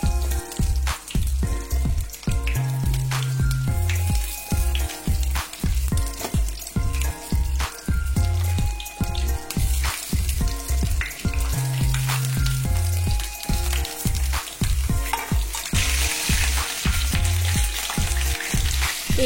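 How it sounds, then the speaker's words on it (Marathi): Stuffed brinjals frying in hot oil, a loud, close, continuous crackling sizzle with dense popping spatter throughout and a few soft clinks, no voices. "तर वांगी मी आता एक एक करून सर्व तेलामध्ये घालून घेते। फक्त तेलावरतीच फ्राय करायचे"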